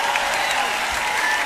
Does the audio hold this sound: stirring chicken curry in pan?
no